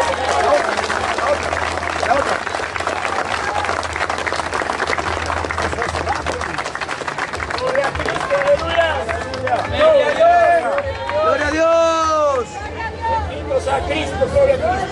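Chilean evangelical congregation at an outdoor sermon claps and cheers for Christ, a dense crowd roar of applause and hubbub with voices calling out throughout.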